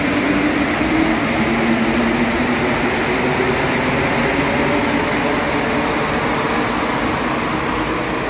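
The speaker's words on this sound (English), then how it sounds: "This train is leaving, guys." A Montreal Metro train pulls out of the station with a steady, loud rumble and hiss that holds evenly throughout, and no voices are heard over it.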